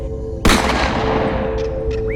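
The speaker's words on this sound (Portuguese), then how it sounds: "quando se ouve o primeiro disparo" A single sharp gunshot cracks out before dawn around 4 a.m., loud and close, with the blast's reverberation hanging and slowly decaying over a steady low hum.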